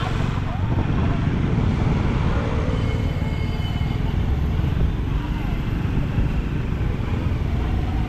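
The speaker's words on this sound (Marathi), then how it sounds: "ट्रॅफिक लागले मजबूत." Heavy road traffic on the Mumbai-Goa highway at Mangaon: a loud, unbroken roar of engines and tyres close by, with no single vehicle standing out.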